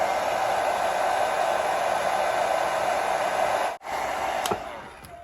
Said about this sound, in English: let's put a hairdryer on it